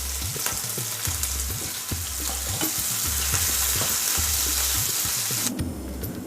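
Garlic, ginger and green chilli with mustard seeds, cumin, cinnamon and black pepper sizzle steadily in hot oil, a close continuous frying hiss with a regular scraping stir for Indian baingan bharta.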